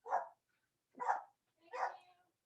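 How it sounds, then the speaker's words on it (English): A pet dog barks at someone at the front door, three separate loud, close barks spaced about a second apart, with quiet gaps between them and no talking. "So somebody's at the door. My dog is going nuts."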